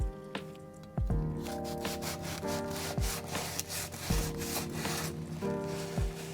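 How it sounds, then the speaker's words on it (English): Chopstick pressing down the crumb of a warm baked coffee cream bun, with close, soft crunching and rubbing crackles in repeated strokes, alongside low tonal thumps. "use a chopstick to gently press down the crumb"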